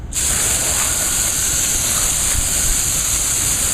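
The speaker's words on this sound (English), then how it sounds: "first I always like to go ahead and get the entire car all saturated with water" Garden hose spraying water over a car to saturate it before washing, a loud, close, steady hiss of spray starting abruptly and running unbroken with no talk.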